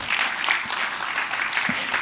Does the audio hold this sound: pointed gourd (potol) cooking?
no